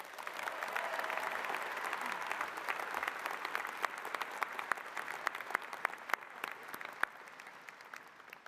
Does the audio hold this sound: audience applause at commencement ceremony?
yes